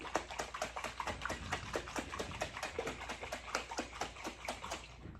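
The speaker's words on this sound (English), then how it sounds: "It seems to help the process by washing them like this." Cucumber seeds are swished and washed in water in a container, giving rhythmic sloshing and splashing in quick regular strokes, close and steady, with no talking.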